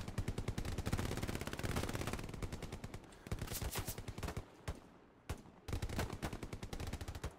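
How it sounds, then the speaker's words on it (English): Gunfire in the World War II shooter Hell Let Loose: long, steady bursts of rapid automatic fire, loud and close, with brief pauses between strings of shots and no talking. "I hear bullets."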